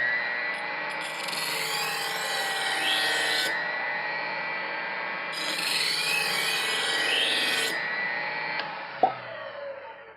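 A knife sharpening machine grinds along a knife blade in two long passes, each a loud, continuous abrasive whine, followed by a short sharp click as it winds down.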